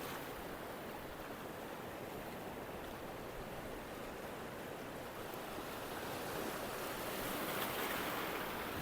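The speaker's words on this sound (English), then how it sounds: "Look at them waves coming in." Ocean waves rolling onto a shore where someone is fishing, a continuous soft surf wash that swells slightly louder toward the end, with light wind and no talk.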